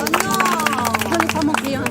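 Audience clapping at a lakeside gathering by Lake Geneva, brief and mixed with crowd chatter and talking voices.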